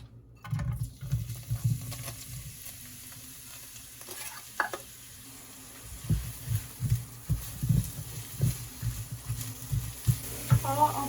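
Kimchi fried rice ingredients sizzling in oil while being stirred in a pan, soft crackling punctuated by scraping stir strokes and light clatters, close and moderately quiet.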